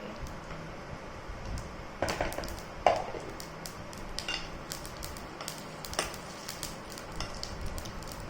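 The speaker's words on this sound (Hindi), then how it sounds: "तब तक इस पैन में अब हम राई और जीरा डालेंगे।" Mustard seeds and cumin hit a hot pan for Maharashtrian dadpe poha, giving a faint scattering of sharp crackles and pops with a soft sizzle underneath and a few louder clatters.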